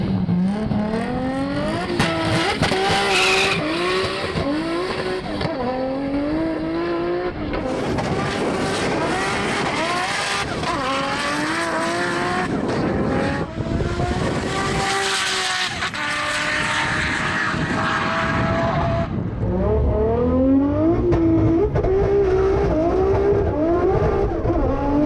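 A built 1000hp Nissan GT-R race car with a 2.6-litre RB26 and large turbo accelerates hard on a run, its engine climbing loudly through repeated revving gear changes with rising pitch sweeps, close and sustained throughout.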